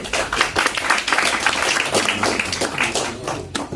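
Audience at a combat NCO appointment ceremony at a Korean college military science department breaks into clapping, a dense patter of many hands, fairly close, lasting the whole stretch with some voices mixed in.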